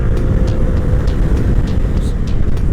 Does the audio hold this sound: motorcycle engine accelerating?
yes